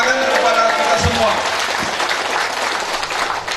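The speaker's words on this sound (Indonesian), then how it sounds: "Tepuk tangan kepada kita semua." Applause from a ceremony crowd at the 2017 best-subdistrict assessment in Marancar, Tapanuli Selatan, a dense, noisy wash of clapping with a couple of low thumps near the start, heard throughout.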